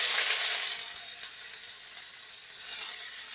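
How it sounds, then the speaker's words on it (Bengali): Onion sizzles in a hot pan while meat curry is being made. The frying is loud and close at first, then eases into a steady hiss with faint crackles. "পেঁয়াজ দেওয়া হবে"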